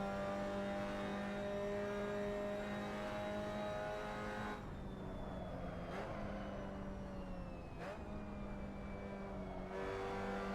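A Mazda MX5 race car engine at Suzuka East drones steadily and close, holding a loud, harmonic-rich note that dips briefly as the throttle lifts and on gear shifts, then climbs back again.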